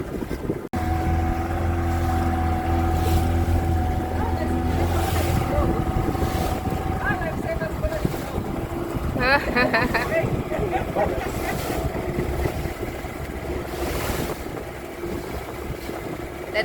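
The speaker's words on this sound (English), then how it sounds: "We went for a boat ride." A motorboat runs across the water at Malindi Marine Reserve, and its engine drone steadily fills the recording. Heavy wind buffets the microphone and water splashes, with brief faint voices and a few tonal squeaks partway through.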